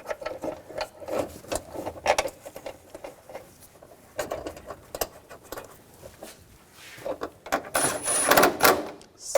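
Ratchet threading and tightening alternator bolts on a 2000-2006 BMW X5 3.0L inline-six, with steady rapid clicking and tool handling throughout, close and moderately loud.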